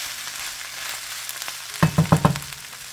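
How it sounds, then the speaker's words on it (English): Rotisserie chicken is stirred in a hot pan, its sizzle fading low before four sharp scraping stir strokes land in quick succession, close and fairly loud. "So I'm going to go ahead and mix this around too. Just to get it heated up."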